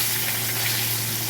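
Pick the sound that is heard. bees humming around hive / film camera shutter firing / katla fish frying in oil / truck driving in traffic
katla fish frying in oil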